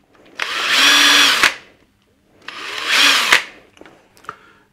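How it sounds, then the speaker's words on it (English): A power drill bores holes in a wooden board from a Grundig Trento radiogram cabinet: two loud, close bursts of whining, rising drilling, each lasting about a second, then a few faint clicks. "I'm just going to drill the remaining, you know, there's probably 20 holes there"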